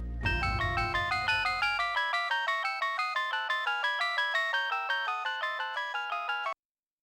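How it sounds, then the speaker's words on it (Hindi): A phone ringtone plays a repeating melodic trill, loud and steady for about six seconds, then stops abruptly; a brief low rumble opens it. "उर्वशी को फोन लगा।"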